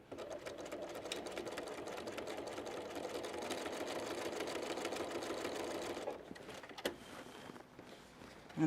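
Sewing machine running a scant quarter-inch seam, a steady close mechanical whir for about six seconds, then stopping with a few faint handling clicks.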